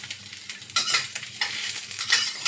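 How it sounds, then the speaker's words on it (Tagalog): Ginger and onion frying in a little hot oil for a clam soup, a close, bright sizzle with bursts of spatula stirring and scraping against the pan, growing louder as the ingredients are tossed, with no speech. "nagpainit ako ng konting mantika para ilagay ko yung aking luya"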